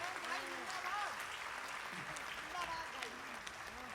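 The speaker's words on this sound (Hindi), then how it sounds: "तालियां कमजोर हैं आप" An audience claps weakly at a Hindi shayari recital on the Maharashtra elections. Steady, dense clapping runs throughout while voices talk over it.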